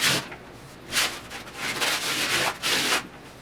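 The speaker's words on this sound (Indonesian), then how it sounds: "kita amplas dulu ya." Sandpaper is rubbed by hand over a dried cornice patch on a ceiling in rhythmic back-and-forth strokes, about five close, rasping passes with brief gaps between them.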